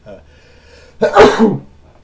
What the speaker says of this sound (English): I wasn't quick enough on the sneeze button there.